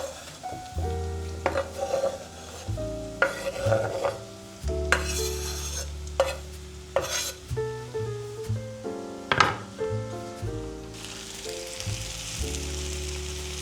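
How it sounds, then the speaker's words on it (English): Chestnut mushrooms hiss and sizzle in a pan with onion and pepper, stirred in repeated scraping strokes, over soft background music. "Add the mushrooms on the onion and pepper."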